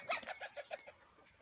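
Home-kept chickens cluck in a quick, faint series of short calls that fade out near the end.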